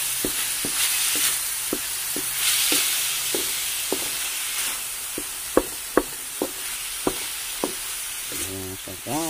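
Ground pork sizzles in a pan as it is stir-fried, with a steady frying hiss and a series of sharp spatula knocks and scrapes that come more often and grow louder toward the end.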